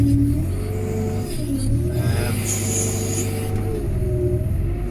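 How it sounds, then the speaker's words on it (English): A Kramer wheeled loader's diesel engine runs close by at a steady, loud idle, a deep rumble that rises slightly and settles again, with no one talking. "There's the engine."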